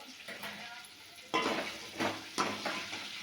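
Radish pieces frying in oil in a pan for a lentil sambar sizzle softly and fairly close, broken by a few stirring scrapes of a utensil against the pan.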